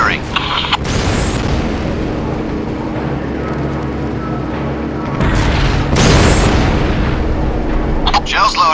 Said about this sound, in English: Bringing main gun to bear. Firing.